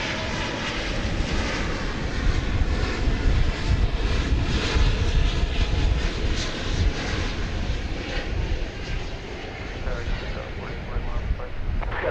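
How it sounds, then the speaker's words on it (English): Boeing 777 airliner on approach to land at DFW Airport, a loud continuous jet engine roar with wind rumble, steady throughout, with people talking. "777 coming in."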